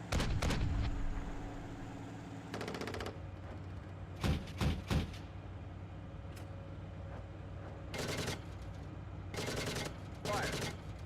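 Artillery guns fire on command during a Canadian combat team operation in Kandahar, a series of loud booming blasts spaced several seconds apart, one at the start and others in short clusters, over a steady engine rumble.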